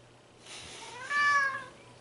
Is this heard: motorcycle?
no